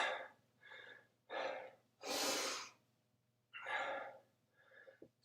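Heavy, labored breaths during a rest break in a home workout: five or six deep, forceful inhales and exhales in an uneven rhythm, close and fairly quiet, with a faint steady hum underneath.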